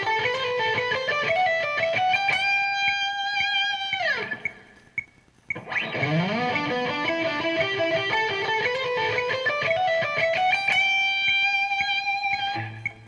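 Electric guitar plays a slow pentatonic lick with hammer-ons and pull-offs, sustained notes and gliding phrases ringing alone with a light effects tone, pausing briefly midway before continuing.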